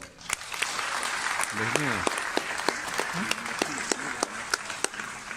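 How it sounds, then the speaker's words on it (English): A crowd applauds steadily for several seconds, dense clapping filling the space, with a few voices calling out and chattering underneath. "can we give him a massive round of applause?"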